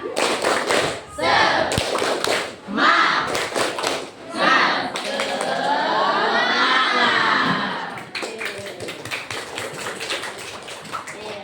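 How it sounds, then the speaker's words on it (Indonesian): Children in a classroom do a rhythmic spirit clap, bursts of sharp patterned clapping alternating with shouted chants and a sustained group cheer, loud and close, with some voices leading in between. "Coba kita tepuk semangat dulu."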